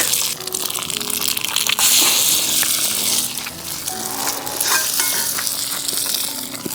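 Eggs frying in a very hot pan set over a Dakota fire hole in a backyard, a loud continuous sizzle and crackle with steady popping, close and without any talk.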